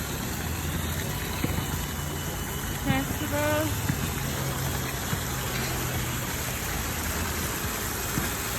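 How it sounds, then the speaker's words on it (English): Water runs steadily from a hotel swimming pool feature, making a constant broad splashing wash. A short voice is heard briefly over it. "Oh, it does have water coming out of it."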